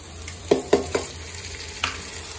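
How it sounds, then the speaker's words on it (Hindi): Chopped tomatoes frying in a pan of mutton curry, with three sharp clacks of a spoon against the pan in quick succession and a fainter knock later over a low steady sizzle. "अब हम जो टमाटर काट के रखा था अब वो डालेंगे"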